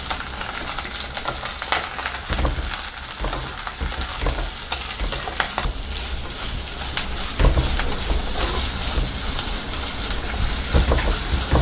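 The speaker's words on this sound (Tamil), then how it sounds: "இப்போ பெரிய வெங்காயத்தை ஆட் பண்ணிக்கலாம்." Large onions and a few curry leaves fry in a pan for a village-style mutton kuzhambu, with a loud, steady sizzle and frequent scraping stirs throughout.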